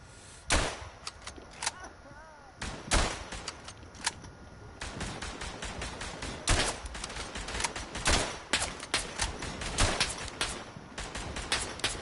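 Rifle hip fire in the WWI shooter Verdun: repeated sharp, loud single shots at irregular intervals, with busy battlefield noise between them.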